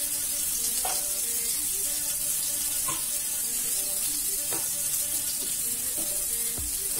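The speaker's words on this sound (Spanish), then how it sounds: "La salteamos con todo este saborcito rico del bacon" Fish sautéing in a pan with bacon and dried basil gives a steady close sizzle, broken by a few soft clinks and stirring scrapes of a utensil, with no talk.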